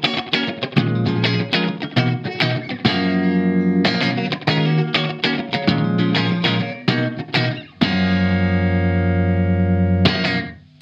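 Electric guitar notes and chords played with a short, quick slapback echo that adds a brief repeat and slight room-like wash to each note.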